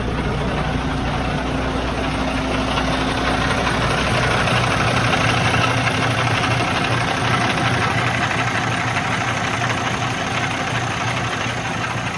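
Steady diesel engine of a 2021 International LT truck idling close by, a continuous low rumble with a constant hum, running alone without speech for the whole stretch.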